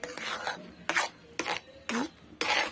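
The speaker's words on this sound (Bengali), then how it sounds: "এটিকে ভালোভাবে একটু নাড়াচাড়া করে নেব তা নাহলে কী হবে নিচে বসে যাবে বা পুড়ে যেতে পারে" Homemade tomato sauce is stirred in a pan in five distinct rasping scrapes of a spoon against the pan bottom, evenly spaced and fairly close, with no voices.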